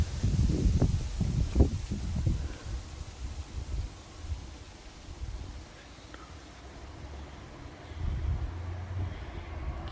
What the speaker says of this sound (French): Il y a des rafales diaboliques encore.